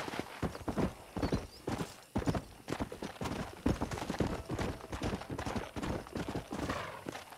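A horse's hooves clip-clop in a rapid, continuous galloping rhythm in Red Dead Redemption Enhanced on Xbox One X, heard close and steady throughout.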